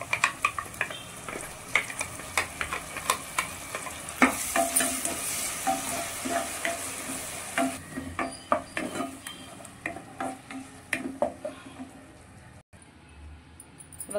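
Ivy gourd being stirred with masala in a pan: rhythmic spatula scrapes and knocks against metal over a steady, close sizzle, continuing throughout with a brief drop near the end.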